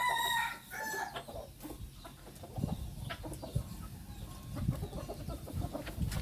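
Chickens cluck and call around a nearby yard while a rooster crows at the start, with scattered bird calls and pecking noises over a low background.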